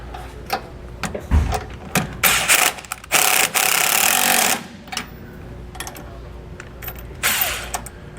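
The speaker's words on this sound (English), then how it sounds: "So now we can go back and snug down the clamp hardware. We're gonna use a 3/4 inch socket and wrench to do so." A 3/4 inch socket wrench snugs down the clamp hardware on a Roadmaster rear anti-sway bar on a 2021 Winnebago, giving loud, irregular bursts of metallic ratcheting and clanking with short pauses between them.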